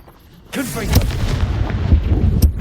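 A Confringo spell bursting in the video game Hogwarts Legacy, a loud crackling blast followed by sustained rumbling fire with a sharp pop near the end.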